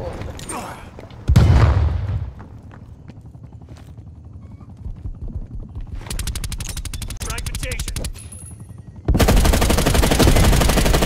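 Shotgun fire and other weapons in Call of Duty: Black Ops Cold War, with sharp loud blasts and bursts of rapid shooting separated by quieter game ambience, plus some background sounds between shots.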